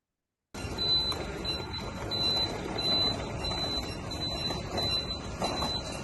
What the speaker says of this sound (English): You can actually hear the beeping sound, and the guy pushing in is like a forklift.